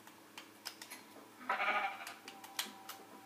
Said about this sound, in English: The green sheep's escaped.